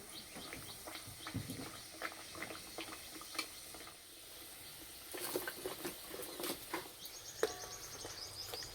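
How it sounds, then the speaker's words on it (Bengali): Egg paratha frying in oil in a pan over medium heat, giving a steady close crackle and sizzle with scattered sharper pops throughout, no voices. "পরোটাগুলো ভাজার সময় উনানে খুব একটা বেশি জোরে জাল দেব না, মাঝারি আঁচে ভেজে নেব।"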